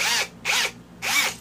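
An Aneerpower 13mm cordless brushless hammer drill whirs in three short bursts, each spinning up and winding down, close and loud with brief pauses between runs.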